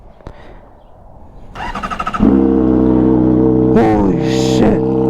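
A motorcycle with its exhaust baffle removed starts up after faint clicks and rattles, then settles into a loud, deep, harsh idle with two sharp throttle blips, close and alone.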